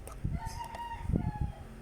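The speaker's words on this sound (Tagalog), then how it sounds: "Yeah, may manok na, no?" A rooster crows in the distance over low thumps and rustling, a single drawn-out call with no talking.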